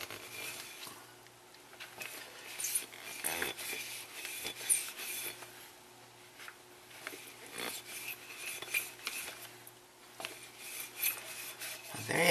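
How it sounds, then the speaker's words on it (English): Rubbing a tea-stained mug clean with fingers, a steady close scratchy rasp of skin on glazed ceramic that rises and falls in repeated strokes, with no talking. "just a little bit of rubbing, it comes clean"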